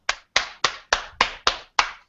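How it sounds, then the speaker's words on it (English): A handful of slow, deliberate single claps in an even rhythm, seven in all, close and crisp with silence between each, a quiet golf-clap-style tribute. "let's give everyone a golf clap for Zeke"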